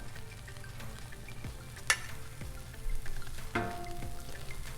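Vegetables sizzling on a hot Blackstone griddle for a breakfast pizza, a low steady crackle with a few sharp scrape clicks of a spatula moving food around, close by and without talk.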